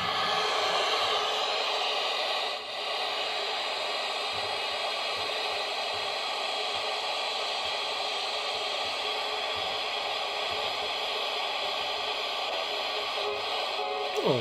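Steady hiss of static from a Diora Camp R 201 radio on the lower band fills the whole stretch, a flat wash of noise with a brief dip and faint crackle, no voice or music coming through.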